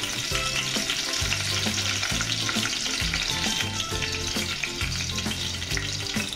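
Ghee melting into hot oil in a pan, readying a tempering for chickpea curry: dense, continuous crackling sizzle, loud and close, with rapid popping throughout and a few low pulsing tones beneath.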